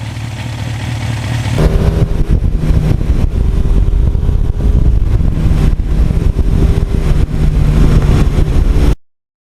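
A 1982 Suzuki GS1100E motorcycle engine drones steadily at speed on back roads, a loud, continuous mid-range hum with wind rush that holds for about eight seconds before cutting off abruptly.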